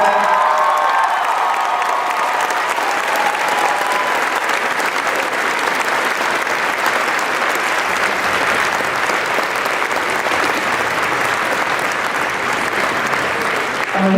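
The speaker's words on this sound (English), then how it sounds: "Please give her a round of applause." A large convention audience at a Star Trek fan series premiere applauds loudly and continuously, dense clapping with some cheering throughout.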